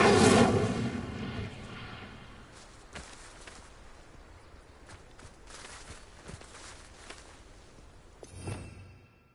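The Incendio fire spell fires in Hogwarts Legacy with a loud burst at the start, followed by quieter scattered impacts and footsteps, then another short flare near the end.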